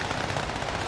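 Rapid gunfire in a multiplayer shooter match, a dense burst of shots crackling continuously through a brief moment with no talk.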